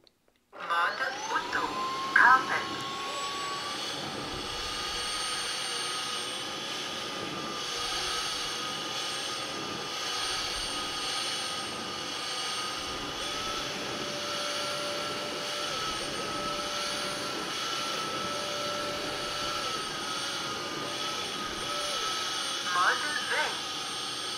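A Tineco Carpet One Spot carpet cleaner switched into auto mode runs with a steady, loud motor whine and airflow hiss for over twenty seconds, starting and ending with brief clicks and handling noise, with no talk over it.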